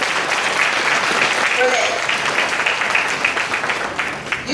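Audience at a middle school honors night banquet breaks into sustained applause, loud and dense clapping that fills the room and tapers slightly at the end, while a voice speaks briefly over it.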